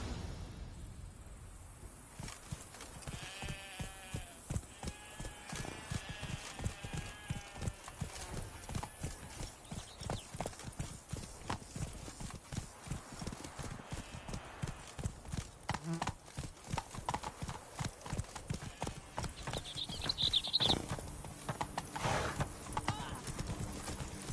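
Horse hooves clip-clop in a steady, fairly close rhythm for the whole stretch, with occasional whinnies and snorts over faint insect chirping.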